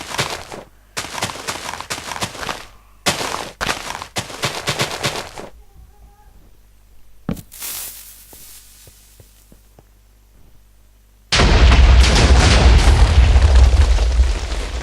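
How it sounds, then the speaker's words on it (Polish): TNT blocks detonating in Minecraft, heard as a string of sharp booms and bursts with quiet gaps between them, then a sustained loud roaring blast near the end. "nawet spróbujmy z dynamitem"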